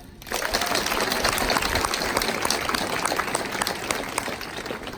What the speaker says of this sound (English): Can we get an applause?